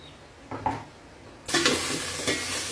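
Pork ribs toasting in a covered pan start quiet with a few faint clinks, then break into a loud, steady sizzle that runs to the end.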